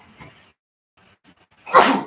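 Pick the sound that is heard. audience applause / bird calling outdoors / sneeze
sneeze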